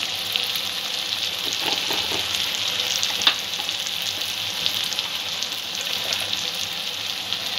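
Ground cumin, coriander and chili sautéing in hot oil for a shol fish curry with vegetables, a steady bright sizzle with a few faint stirring scrapes, close and continuous.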